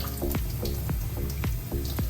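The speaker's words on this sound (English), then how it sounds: "rinse our tomatoes" Running cold tap water splashes steadily as cherry tomatoes are rinsed under it, with a few soft clatters breaking through the flow.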